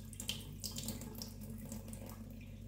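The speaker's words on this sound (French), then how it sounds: "Et on va les rincer comme ça 2-3 fois." Tap water runs steadily into a sink as tomato seeds are rinsed, a constant close splashing hiss with small surges, no voices.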